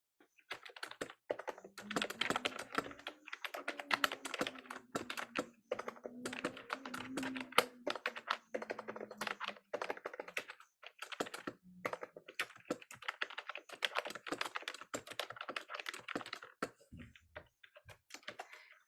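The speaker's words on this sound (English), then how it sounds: "I'm going to go ahead and type in here the next thing, which is, I'm like using both keyboards." Rapid, steady typing on a computer keyboard with two keyboards in use, the keys clacking continuously and close up with brief pauses, and a low voice faintly audible beneath.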